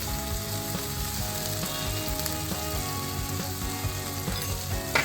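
Garlic and coriander paste with turmeric sautés in a pan for patwadi rassa, a dense continuous sizzle with a low background hum and occasional stirring scrapes.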